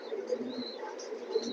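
Pigeons in a Bangladeshi racing-pigeon loft give soft cooing calls close by, with a few light chirps over a steady low background.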